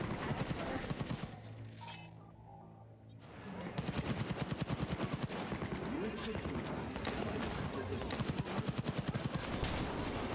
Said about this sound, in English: Then I guess there's a bunch of gunshots happening.